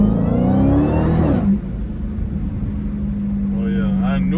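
Dodge Hellcat engine revving hard while the car slides around a turn in a city neighborhood, a loud whining roar that drops to a steady drone, with a voice talking over it.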